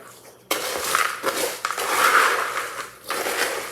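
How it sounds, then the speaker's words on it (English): Dry Chex Mix cereal pieces being poured and shaken into a bowl while making pumpkin spice muddy buddies, a close rustling, clattering rush that starts abruptly and continues in uneven bursts with brief pauses. "I think I'm gonna put just a little bit more Chex Mix in there."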